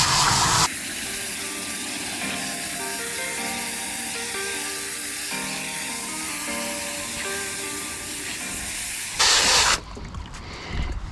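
Water sprays steadily onto wool and foam polishing pads, a continuous hissing rinse with a faint tonal hum beneath, ending in a sharper brief gush before stopping.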